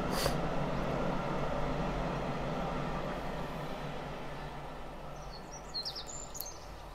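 A cargo train passes at a distance, a steady low rumble of rolling wagons that slowly fades over several seconds, with faint bird chirps breaking through near the end.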